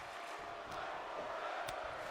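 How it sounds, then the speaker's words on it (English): A wrestling arena crowd in WWE 2K26 chants "fight forever" during a Universe Mode match, a faint, distant, steady roar of massed voices with a couple of brief sharp thuds. "Crowd chanting fight forever"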